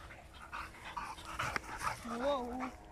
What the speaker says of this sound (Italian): Il gioco fra cani è una delle cose più belle